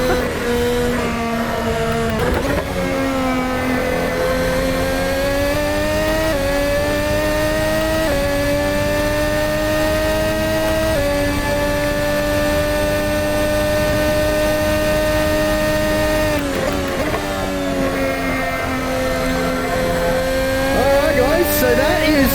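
2022 Formula 1 car heard from an onboard helmet camera at Goodwood and Silverstone, a loud continuous high-pitched engine scream rising and falling through gear changes, close and dominant throughout.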